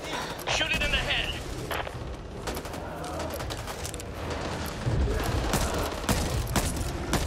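Rapid bursts of gunfire cut down zombies in the co-op shooter Back 4 Blood, loud and dense, with sharp shots and sustained automatic fire over several seconds, blended with game sounds while players talk over the action.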